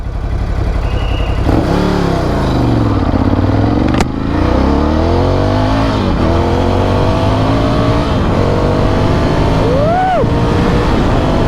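A superbike launches hard and accelerates, its loud engine note climbing in pitch through several sweeps before easing off near the end, with the roar continuous throughout.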